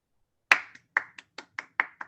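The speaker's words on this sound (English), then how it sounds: "Clap, clap." Hand clapping in a quiet room: one sharp clap, then a quick uneven run of about eight more crisp claps, close and fairly soft, with no voices.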